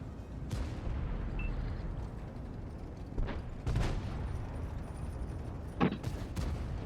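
Tank cannon shots and hits in a tank battle game, a handful of sharp, spaced blasts rising over a constant low rumble of engines and distant combat.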